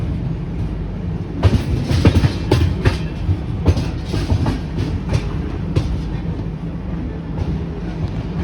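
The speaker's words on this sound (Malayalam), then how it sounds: "ട്രെയിൻ ഛത്തീസ്ഗഡ് കഴിഞ്ഞ് കട്നി എന്ന് പറഞ്ഞ സ്ഥലം കഴിഞ്ഞ് ഇങ്ങനെ പൊക്കോണ്ടിരിക്കുകയാണ്" A Kanyakumari–Varanasi express train rolls along the tracks past Katni with rhythmic clickety-clack of wheels over rail joints, loud and steady with rumbling underneath.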